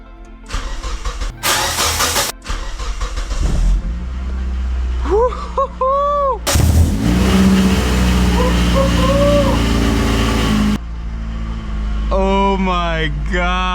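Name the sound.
old stored car engine starting with weird belt noise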